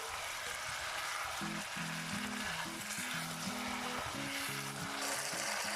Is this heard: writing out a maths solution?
no